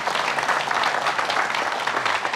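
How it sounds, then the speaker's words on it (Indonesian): A studio audience claps for a guest, Chand Kelvin, with dense, even applause sustained throughout and no voices over it. "Tepuk tangan buat Chand Kelvin."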